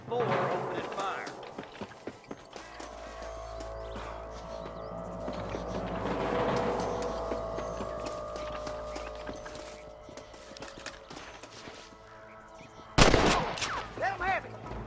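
Gunfire in the Red Dead Redemption video game: scattered sharp shots crack over a low rumble, with horse hoof clatter in places and a heavy close burst near the end, while voices talk.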